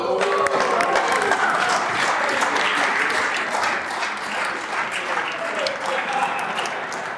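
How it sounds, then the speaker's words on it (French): Applause in the Quebec National Assembly chamber, a sustained roomful of clapping with some crowd murmur mixed in, strong at first and easing slightly toward the end. "Pour ceux qui nous regardent, à cette étape-ci, il est permis d'applaudir."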